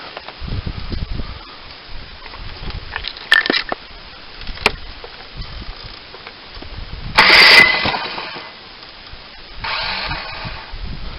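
A Cub Cadet self-propelled lawn mower's recoil starter is yanked a few times in sharp, brief bursts, with one longer, louder pull rattling near the middle, amid quiet mechanical clatter; the engine does not catch.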